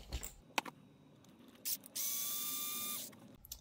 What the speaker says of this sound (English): we're just going to go ahead and get these three screws off here, the two on each side of this plate and that one there